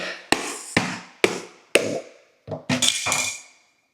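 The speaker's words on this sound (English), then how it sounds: "I'm busting up the coconut now" A coconut is cracked open with sharp, hard strikes landing one after another at an uneven pace, each a crisp crack with a short ringing decay, ending in a quick flurry of blows.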